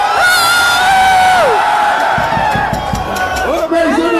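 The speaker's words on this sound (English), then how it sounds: "Make some noise for dancer number 1." Crowd at a dance battle cheering for the first dancer, with loud whoops and high screams rising and falling, close and continuous.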